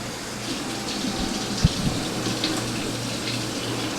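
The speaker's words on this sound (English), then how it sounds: "I'm gonna go ahead and get my hot water." Hot water runs from a kitchen tap in a steady, even gush, with a brief knock partway through. The flow is close and fairly loud, with no one talking.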